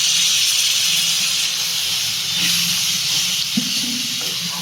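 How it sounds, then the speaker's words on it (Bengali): Water poured into hot spice mixture in a pan for a cauliflower curry, giving a loud, steady steaming hiss that sizzles continuously throughout, with faint clinks underneath. "এবার এর মধ্যে আমি একটু জল দিয়ে দেবো"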